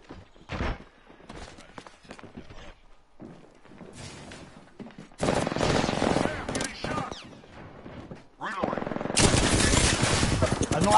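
Bursts of automatic gunfire and single shots ring out in a PS4 shooter game, growing loud and dense in the second half, with a player talking over quieter stretches.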